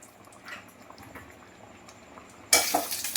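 Hot tempering poured into simmering mung dal with bottle gourd, a sudden loud hissing sizzle that erupts near the end after quiet kitchen clinks and faint bubbling.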